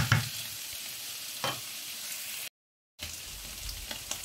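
Octopus fricassée, Provençal style, stirred as it cooks in a pan: a steady, close hiss of sizzling with a few louder scraping stirs, briefly cut to silence, then the sizzle resumes.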